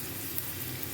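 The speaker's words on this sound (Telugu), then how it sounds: "ఇందులో 2 టేబుల్ స్పూన్ల ఆయిల్ తీసుకొని ఇందులో మనం కట్ చేసి పెట్టుకున్న ఉల్లిపాయ ముక్కలు, ఒక పచ్చిమిరపకాయ తీసుకుని దోరగా వేయించుకోవాలి" Onion pieces and a green chili frying in two tablespoons of oil in a cooker, giving a steady, close sizzle that holds evenly throughout with no talk.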